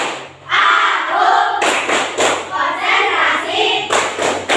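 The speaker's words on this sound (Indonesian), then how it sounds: "Ayo semuanya, tepuk konsentrasi." A classroom of children doing a rhythmic concentration clap led by their teacher: voices chanting together, punctuated by sharp group claps and thumps in a patterned beat.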